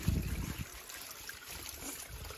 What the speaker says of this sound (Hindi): ये कपड़े धोए जा रहे हैं